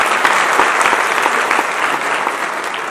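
Audience at an Indian gathering bursting into loud, dense applause, steady rapid clapping from many hands held for the full few seconds, close and without talk.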